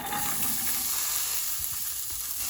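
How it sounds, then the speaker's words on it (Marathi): Onion and garlic scapes frying in hot oil in a pan, a steady close sizzle and hiss with faint clinks underneath, continuous throughout. "पुरो फ्राय करूया आनी आतां हे स्केप्स घालता"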